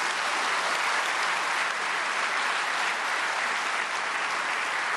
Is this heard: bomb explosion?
no